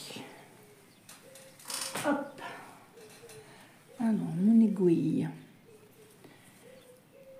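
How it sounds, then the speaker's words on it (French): A pigeon coos outside an open house: a soft, rolling phrase of coos fairly close by, mixed with smaller bird chirps, while a person speaks briefly in between. "Ah, on entend les petits oiseaux. Ça, c'est un pigeon"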